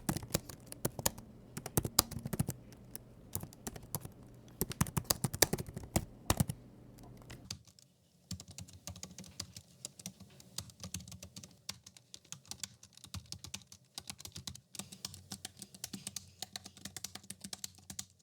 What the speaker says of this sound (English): I'll do a little typing test now so you can hear the keyboard